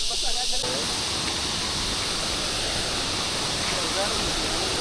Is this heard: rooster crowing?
no